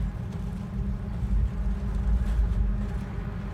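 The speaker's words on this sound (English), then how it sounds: "So it's actually just some wind." A steady, rumbling wind with heavy low-end noise stands in for a giant robot worm moving sand, a constant close roar with slight swells and no other sounds.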